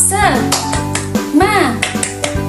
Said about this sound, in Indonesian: supaya semangat kita tepuk semangat dulu ya